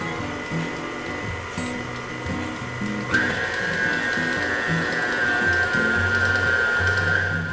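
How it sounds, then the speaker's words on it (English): An electric mixer beating chocolate cake batter at medium speed, a steady close motor whir that rises in pitch partway through and keeps running. "now we're gonna close this and mix this on medium speed just until it's well"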